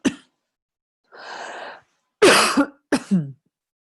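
A short cough, a breathy sigh and two harsher throat-clearing coughs, all close and separated by silence, with no speech.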